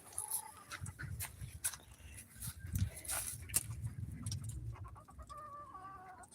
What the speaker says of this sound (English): And this right here's our Bantams right here.